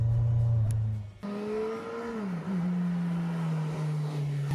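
A Kawasaki Z1000SX sport-touring motorcycle engine revs up with a rising, then falling whine. The note is loud and close, and it settles into a steady high drone.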